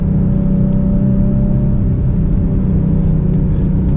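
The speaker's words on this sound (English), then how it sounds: "the engine is super responsive with that 4-liter turbocharged V8" Mercedes GLC 63 AMG with a 4-liter turbocharged V8 under way, giving a steady loud low engine drone and rumble with road noise, held even throughout and without speech.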